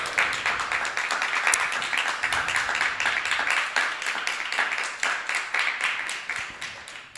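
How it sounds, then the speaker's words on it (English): An audience at a devotional talk honoring mothers gives a steady round of applause, close and continuous for about seven seconds before tapering slightly. "Let's give a round of applause for Nirakala Mataji here."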